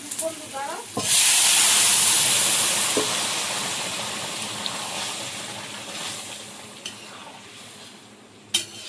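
Bottle gourd and panch phoron spices hit a hot pan with a loud, sudden sizzle that slowly fades into steady frying hiss, with occasional stirring clinks.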